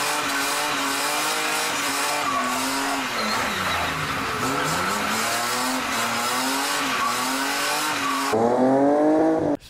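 Drifting car with an open door, tires squealing loudly on asphalt in long wavering shrieks over a roaring, revving engine, continuous and close, ending in a sharp rev.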